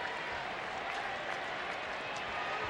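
A Thursday afternoon baseball crowd in Oakland applauds steadily, a dense, even wash of clapping from the stands that holds at a constant level from start to finish.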